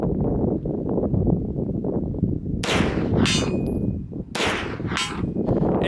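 Two sharp 9mm shots ring out at about 2.6 and 4.3 seconds, each followed by a bright metallic clang from a steel target 75 yards downrange, over steady outdoor background noise.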